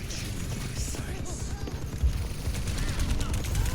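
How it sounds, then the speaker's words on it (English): Sustained automatic rifle fire from the Soldier hero in Overwatch, a dense rattling stream of shots with a heavier burst midway, set against busy match noise. "We know the soldier is shooting us."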